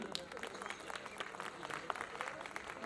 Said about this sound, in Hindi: एक बार तालियां बजाकर मेरा स्वागत कर दें।